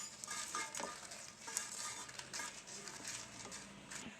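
Five red chilies roasting in a pan for urad dal chutney, giving a soft, steady sizzle with light crackles and occasional scrapes of stirring, no voices.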